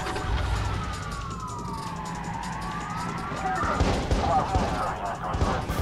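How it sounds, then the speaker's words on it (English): Police gunfire erupts in the Watch Dogs video game during a car chase, with rapid bursts of shots crackling over a wailing police siren and steady engine and road rumble; the firing grows denser and louder in the second half. "Oh, fuck, they're firing."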